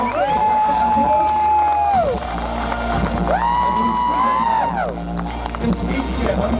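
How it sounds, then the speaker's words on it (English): Crowd cheering and whooping at a BNBF Southerns natural bodybuilding show, with voices shouting over steady audience noise and some clapping throughout, loud and close, with people talking in the mix. "Okay, that's it, applause."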